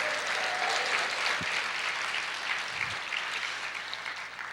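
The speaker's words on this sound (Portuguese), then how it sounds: "Pode aplaudir o Senhor e dizer glória a Deus." Church congregation applauding together during a sermon, a steady dense wash of clapping that fills the space evenly and carries on without any talk over it.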